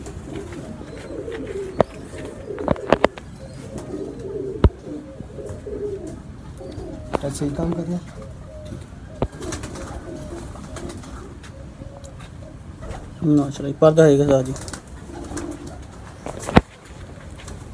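Pigeons from a loft of selected birds coo in short throaty bursts, clearest near the end, beneath ongoing conversation between men and scattered sharp knocks.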